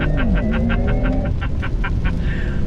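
A Porsche Taycan 4S surges forward under launch control, an electric whine climbing steadily in pitch, joined by a rapid pulsing whoosh of wind and road noise heard loud from inside the cabin.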